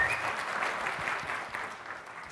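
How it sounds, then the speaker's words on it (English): A conference audience at DomainX 2016 in New Delhi applauds a speaker, a fairly soft, even wash of many hands clapping that holds steady for a couple of seconds. "Let's give him a round of applause for that"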